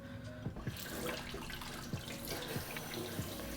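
Potatoes are rinsed under a running kitchen tap, a steady close splash of water into a sink with a few knocks and bumps of the potatoes, no voices.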